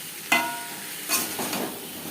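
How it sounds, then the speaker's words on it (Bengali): Spices frying for khichuri in a pan, with a sharp utensil clank and a couple of stirring scrapes over a faint, soft sizzle, close by and with no talking. "মশলার কাঁচা গন্ধ যাওয়া পর্যন্ত নাড়াচাড়া করে নেব। 3-4 মিনিট ভেজে নেওয়ার পর"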